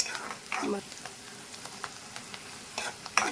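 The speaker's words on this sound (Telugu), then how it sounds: "మనకి కొద్దిగా వేగుతున్నాయి మనకి ఆనియన్స్ వేగుతున్నాయంటే కలర్ తిరుగుతాయి" Chopped onions sizzle and fry in a pan, a close, crackling hiss with bursts of stirring scrapes scattered throughout.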